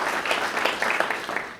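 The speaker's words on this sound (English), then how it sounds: "So please a round of applause for those that are in attendance." Brief, steady applause fills an alumni induction ceremony hall, a close wash of many hands clapping together with no break.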